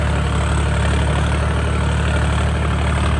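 A tractor engine idles steadily and loudly up close, a constant low rumble with no break or change, on a trip to collect sand from the Yamuna river.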